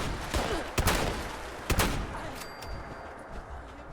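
Shotgun firing in a video game, several sharp booming blasts spaced about a second apart, fairly faint, with a short ringing tail after the last shot.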